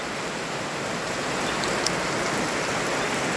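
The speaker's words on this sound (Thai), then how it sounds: "แต่พอดีฝนไหลล้างเลย" Steady, even rain pours down in a rural countryside village, a loud continuous hiss of drops on surfaces with no voices and no change in intensity.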